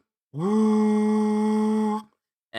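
A human voice imitates a boat horn with one long, steady, droning tone of about two seconds, close and loud, followed by the start of another.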